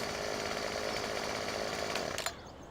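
A chainsaw in the video game Farming Simulator 17 runs in a steady, loud buzzing drone while cutting trees, ending in a sharp knock and cutoff near the end.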